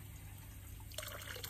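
Water poured from a wooden ladle over the hands at a purification basin, a soft trickle and splash starting partway through, faint against a steady low hum.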